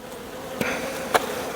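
A steady, droning hum of many honeybees buzzing close by, with a couple of sharp clicks cutting through the buzz.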